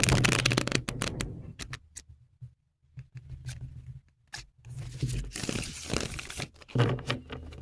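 Tarot cards are shuffled repeatedly in quick riffling bursts, with pauses and soft handling noises between, close and fairly quiet, no talking.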